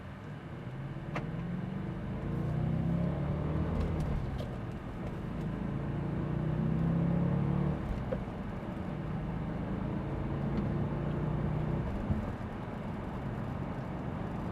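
A black Audi RS4 convertible pulls away in first gear, its engine note rising and swelling over several seconds, then easing off, heard from inside the car with road and wind noise and no talking.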